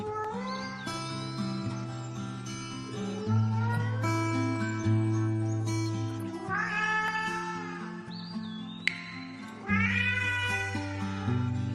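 Several cats meow and caterwaul continuously, long rising and falling cries overlapping one another, loud and close with no speech over them.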